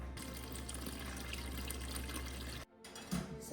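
Warm water pours from a tap into a bowl for sourdough bread in a steady, soft running stream, then cuts off abruptly, followed by a faint clink.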